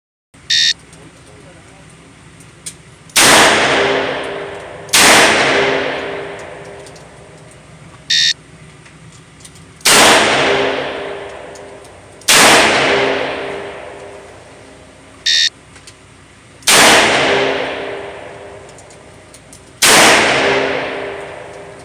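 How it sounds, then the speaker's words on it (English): Colt MKV Trooper revolver fired at an outdoor range: loud, crisp shots in groups with ringing decay, each string preceded by a short electronic timer beep. "On command, fire 3 rounds in 4 seconds."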